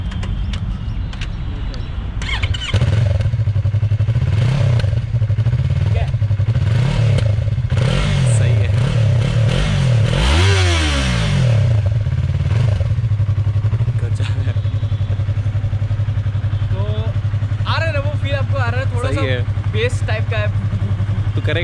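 A Yamaha R3 motorcycle with its stock exhaust idles loud and close, then revs up in a few rising bursts before settling back to a steady idle.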